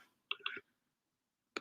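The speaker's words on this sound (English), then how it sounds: "Oops, that's not what I meant to click on." A computer mouse gives a quick pair of sharp, quiet clicks, then a single click about a second later, close by in an otherwise silent room.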